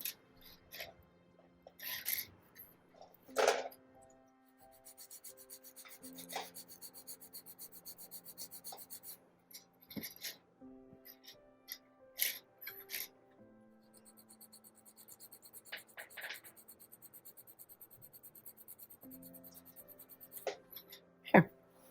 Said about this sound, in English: File that little elbow.